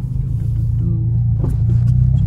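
A 1999 Toyota Camry four-cylinder drones steadily from inside the car, a loud low engine rumble holding nearly constant with a slight rise toward the end.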